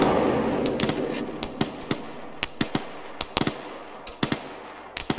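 Gunfire in the Arma 3 military game during a hot landing, sharp distant-sounding cracks scattered irregularly over a rumbling background, roughly a dozen shots in a few seconds.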